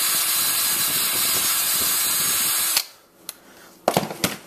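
A close power drill whines steadily for a few seconds drilling into a headset, then stops, followed by a few sharp clicks and knocks of handling.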